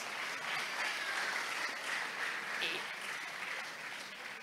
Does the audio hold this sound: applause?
yes